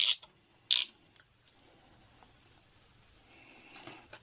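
A ratchet tightens nuts on a Briggs & Stratton plastic intake manifold in two quick bursts of clicking, then a faint rasp, close and alone.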